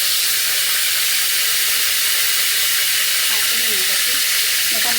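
Oil and watery contents hiss and sizzle steadily in a pan while pasta is being cooked at home, a loud, continuous frying noise close by.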